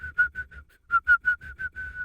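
A voice whistles a series of short, evenly spaced chirping notes, imitating a turkey's call, close and moderately loud.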